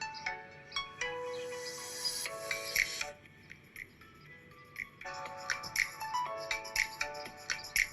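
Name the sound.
Realme 11 phone mono speaker playing test audio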